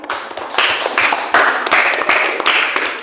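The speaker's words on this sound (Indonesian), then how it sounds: "Ya, tepuk tangan untuk temannya." A classroom applauding a classmate: loud, close clapping that starts scattered, then swells into steady, rhythmic waves of many hands for about three seconds.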